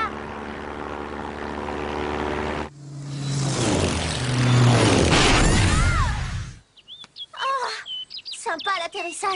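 Cartoon flying craft crash-landing in a forest: a droning engine hum breaks into a loud roaring, tearing crash, then gives way to chirping, whistling birdsong.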